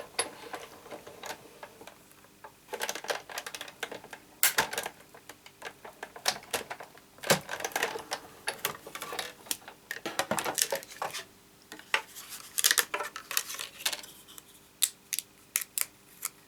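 Scissors snipping card pieces for a laced ribbon greeting card, a long series of small crisp cuts and paper rustles in irregular clusters, close and soft, with no talking.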